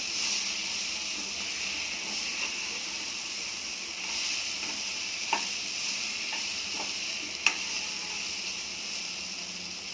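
Potato and cauliflower pieces sautéing in masala for a dry vegetable dish, a soft steady sizzle with occasional light clicks of a spoon stirring, fairly quiet throughout.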